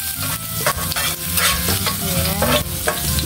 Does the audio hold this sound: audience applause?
no